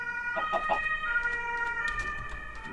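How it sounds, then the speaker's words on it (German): An ambulance siren in the video game Minecraft, a wavering electronic wail holding steady tones, accompanied by clucking chicken-like blips scattered through, moderately loud with no talk. "Fährt der Krankenwagen rum."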